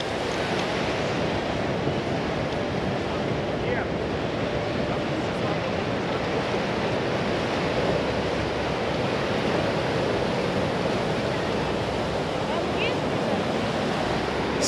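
Continuous roar of surf washing onto a shore, steady and fairly loud, with some wind rumble across the microphone.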